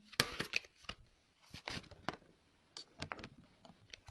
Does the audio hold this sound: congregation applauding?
no